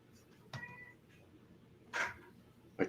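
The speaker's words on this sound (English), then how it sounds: "She's meowing at Daddy." A house cat meows indoors in two or three short, separate calls over a low room background.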